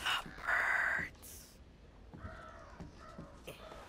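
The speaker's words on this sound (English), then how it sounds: "The birds." Crows caw in a video game, a loud burst of harsh calls up front followed by several fainter caws spaced through the rest, with no talking over them.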